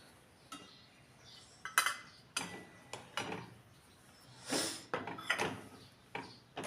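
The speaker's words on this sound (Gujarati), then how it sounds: "ઘી ઓગળી ગયું છે હવે આપણે એની અંદર લોટ નાખી દઈએ" Flour tipped into melted ghee in a pan for sukhdi, heard as a series of close scraping and clinking strokes of a spoon against the pan, irregular and fairly loud, with no voices.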